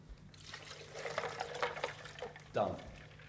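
Water is poured into a glass over ice and cucumber for a flavored drink, a soft splashing trickle in a kitchen that swells and then ends with a short gurgle.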